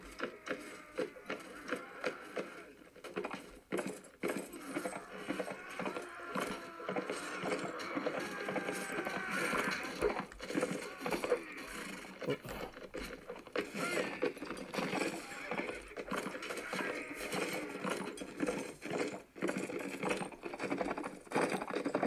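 Rhythmic hoofbeats of a galloping horse in Mount & Blade run through a dense, busy battle soundscape with gunfire-like cracks and mechanical noise, steady and fairly loud throughout.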